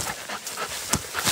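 A bear hunting dog pants outdoors in quick, close, uneven breaths, a short burst of rhythmic huffing with no talk.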